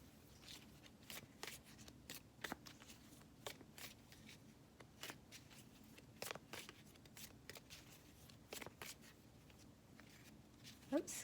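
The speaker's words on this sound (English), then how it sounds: "these are kind of funky to shuffle, these round cards" Round tarot cards being shuffled by hand during a reading, giving a soft, close series of riffling snaps and brushes in irregular bursts, with a quiet room hum underneath.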